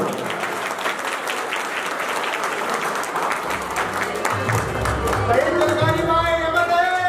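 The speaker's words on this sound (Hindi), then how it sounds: "तालियों की आवाज कम ना हो।" Crowd applause at a district-level Koli community conference, steady clapping from many hands with voices and a tonal hum entering partway, the clapping continuing under the sounds.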